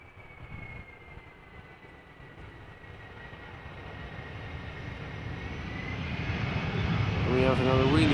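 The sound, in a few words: Delta Airlines A330-300 airliner arriving at Amsterdam Schiphol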